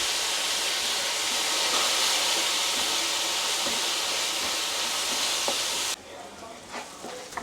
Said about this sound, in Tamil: ஆனியன் வதங்கினதும் கட் பண்ணி வச்சுருக்கிற டொமேட்டோ ஆட் பண்ணணும்